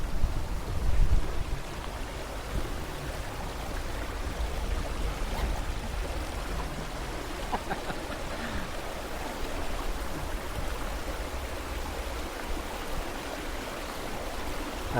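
A river rushes steadily throughout during a bike ride crossing at Cuyambay, its broadband wash constant and fairly loud, with a few low bumps near the start and no clear talk.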